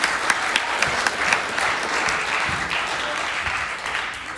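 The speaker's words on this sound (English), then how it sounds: "Ladies and gentlemen, another round of applause for our awesome singers." Audience clapping for singers at a Pasifika Fusion stage show, a steady, dense wash of applause from a large crowd that holds at an even level throughout with no speech over it.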